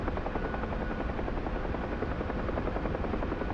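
A UH-1 Huey helicopter in the DCS flight sim gives a constant close rotor thump with a rapid, even beat over a droning turbine hum, steady and unbroken, with no speech.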